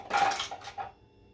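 A spoon stirring a cocoa dip in a bowl, giving a few close, light clinks and scrapes against the dish in a short quick cluster that then fades away.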